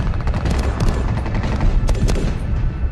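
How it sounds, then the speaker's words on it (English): An HK417 .308 battle rifle firing in a movie battle scene from 13 Hours, a dense, loud volley of close shots with overlapping gunfire and no clear talking. "You see one of the main characters shooting his HNK 417 308 battle rifle in this clip."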